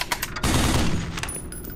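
Machine gun fire in the video game Black Mesa bursts as a loud, close rattle of rapid shots, sustained for about a second before fading.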